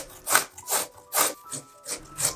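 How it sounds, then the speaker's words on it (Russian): A carrot rubbed against a metal grater in steady rasping strokes, about six evenly spaced scrapes, close and clear with no talking. "мы с вами натрем на терке одну морковку"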